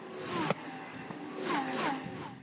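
Lamborghini Super Trofeo race cars flash past the old pit wall at Spa-Francorchamps during a race, several engine notes sweeping by in quick succession, a sharp nearby pass followed by two more at moderate distance.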